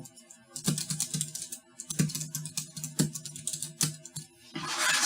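Rapid clicky typing on a small plastic Bluetooth keyboard, light plastic taps in quick irregular bursts, close up with no voices.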